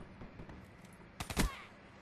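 A gunshot in a video game: a short cluster of two or three sharp cracks rises briefly out of quiet game background, fairly faint overall.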